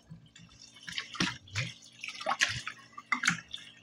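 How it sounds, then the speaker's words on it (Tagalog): Chicken pieces are dunked and soaked in water for a home-cooked halang-halang dish, producing splashy sloshes, drips and wet handling sounds at close range in short irregular bursts. "Babad muna natin sa tubig."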